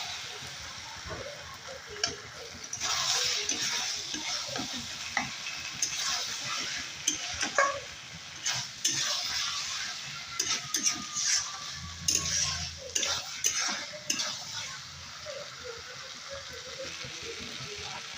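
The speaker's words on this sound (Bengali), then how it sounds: "সর্ষে বাটাটা হালকা কষা হয়ে গেলে ভেন্ডি আলুগুলো দিয়ে আর একটু 1 থেকে 2 মিনিট কষিয়ে নেব।" Okra and potato pieces stir-fry in mustard paste in a pan, giving a continuous sizzle broken by frequent scraping and knocking strokes from a spatula. The sounds are close and uneven in rhythm.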